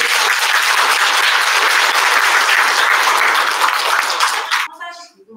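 An audience at a public health lecture applauds the lecturing professor with loud, steady clapping that holds for several seconds and then cuts off abruptly as a voice begins.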